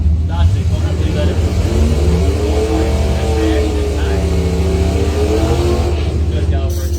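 Loud engine roar as a Dodge Daytona Mopar drag car races down the strip at a Bowtie Challenge event, its pitch sweeping steadily while a track announcer talks over it throughout.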